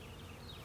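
Faint, continuous buzzing of honeybees swarming around a hive during a queen transfer, a soft steady insect drone with no voices over it.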